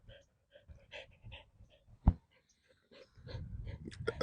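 A dog pants in quick breathy bursts close by, with a sharp sound midway and a person speaking softly at moments.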